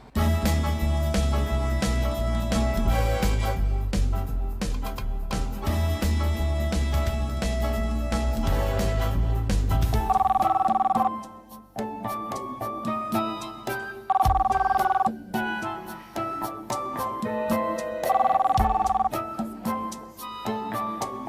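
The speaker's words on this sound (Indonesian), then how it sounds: "Telepon." A telephone rings in an Indonesian TV comedy series, its tones coming in repeated bursts a few seconds apart over a backing music track.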